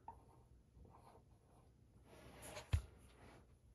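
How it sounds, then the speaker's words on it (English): Pen or marker scratching across a surface while a chemical equation is written out, a soft continuous scribbling with a sharper tap near the end, close and fairly quiet with no talking. "on the other side, you're going to write"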